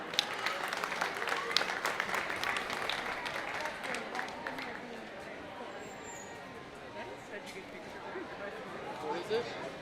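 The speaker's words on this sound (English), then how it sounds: "So let's please have a round of applause for our sponsors." Audience applause at a food and farm show honoring sponsors, a fairly faint crowd clapping that is strongest early on and then thins out, with murmuring chatter underneath.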